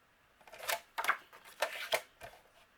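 A card paper panel for a handmade Christmas card is trimmed in about six short, crisp cutting strokes. They come close and quiet, with silence between them.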